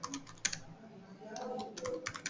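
Rapid keystrokes on a computer keyboard while code is written, coming in uneven bursts and clusters of clicks with short pauses between them, close and fairly quiet, with no talking.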